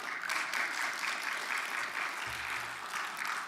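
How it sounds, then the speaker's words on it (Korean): A church congregation claps steadily together, a dense and continuous patter of many hands filling the room at moderate distance, with no talk over it. "여러분 박수를 치려면 우리 주님께 영광의 박수 올려드리겠습니다."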